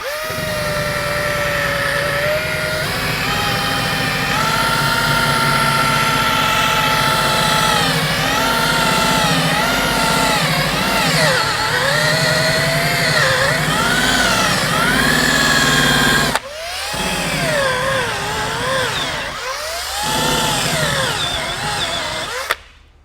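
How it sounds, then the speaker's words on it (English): A cordless drill spins a stripe removal wheel against a Foxbody Mustang's body stripe, making a steady loud whine that wavers in pitch as the load changes, cuts out briefly near the end, then restarts and wavers again. "I'm not real happy with the power on this drill."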